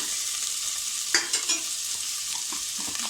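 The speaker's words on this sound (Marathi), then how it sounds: "मी जास्त म्हणजे 5 मिनटं फक्त पायाचे परतून घेतले आहेत त्या मसाल्यामध्ये" Mutton trotters sautéing in masala in a pan, a steady bright sizzle throughout with a few brief scraping stirs near the middle, close and even, no voices.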